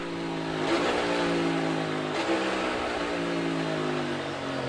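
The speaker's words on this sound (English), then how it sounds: "Pretty hard downshifting right there, coming on the pit road, practicing" A NASCAR race car at Daytona downshifts hard entering pit road, its engine a steady loud drone with two abrupt pitch jumps as gears drop, heard continuously without talk.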